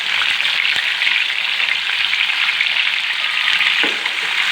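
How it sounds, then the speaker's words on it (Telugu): Tomatoes frying in hot oil for a tomato chutney rasam, a steady loud sizzle that runs continuously with small crackles, no voices. "ఇప్పుడు టమాటాలు వేసుకోవాలి. ఈ ఆయిల్లోనే టమాటాలు వేసుకోవాలి."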